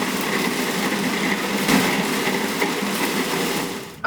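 A food processor runs in a steady whirring grind while chopping snack ball ingredients into coarse crumbs, a continuous motor drone with a slight surge midway and a cutoff at the end, no talking.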